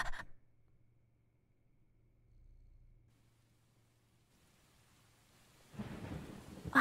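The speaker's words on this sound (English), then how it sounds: "I hear rain." Rain and thunder from the video game Stray, a brief burst of rain at the start, a low distant rumble through a quiet stretch, then heavier rain hissing back in at the end.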